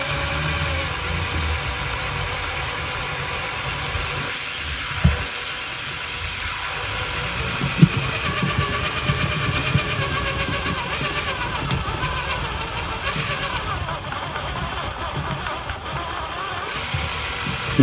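An upgraded brushed motor in an MN128 Rubicon RC car runs with a steady, close buzzing whine, a few small clicks and bumps breaking through the continuous drone.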